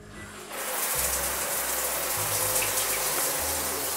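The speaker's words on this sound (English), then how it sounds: "And then we have this rainfall style shower." Water pours steadily from a rainfall-style shower head, a loud, continuous broadband rush that starts after a brief quiet moment and runs unbroken to the end.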